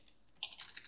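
Someone types code on a computer keyboard, producing a short burst of a few quick, faint key clicks after a moment of near silence.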